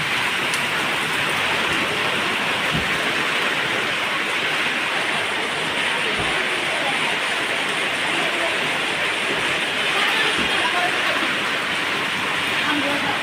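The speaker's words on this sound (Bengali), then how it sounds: "এত বৃষ্টি হচ্ছে।" Heavy rain pouring steadily, a dense continuous hiss with occasional louder drips, voices faintly under it.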